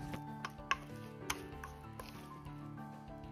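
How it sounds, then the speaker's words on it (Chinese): Chopsticks stir flour into a wet batter for knotted dough soup, producing soft quiet scraping and a few small clicks against the bowl at an irregular pace, close and faint. "然后用筷子慢慢的搅拌"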